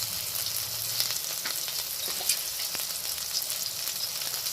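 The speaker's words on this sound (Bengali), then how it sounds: "প্রথমে বেগুনটা একটু ভেজে নেব" Eggplant sizzles and fries steadily in hot mustard oil in a wok, a close, continuous crackling hiss with occasional stirring clicks and no talking.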